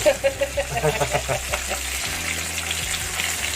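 A whole squid deep-frying in hot oil, Korean style, with loud close bubbling and crackling spatter, strongest at the start and settling into a steady fry.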